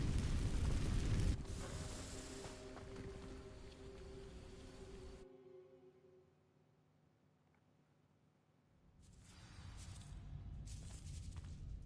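The Incendio fire spell is cast in Hogwarts Legacy, producing a roaring whoosh of flame that fades into near silence before another crackling burst flares up.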